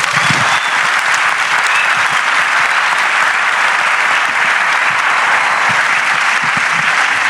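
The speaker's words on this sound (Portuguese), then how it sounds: "Palmas." Audience applause at the close of a talk, dense, loud clapping from a large crowd sustained evenly throughout with no voices breaking through.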